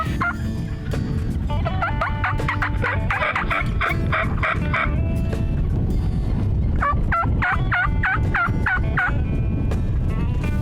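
Several wild turkey toms gobble in repeated rolling bursts over steady outdoor background noise in a Nebraska field, a run of calls, a pause, then another run.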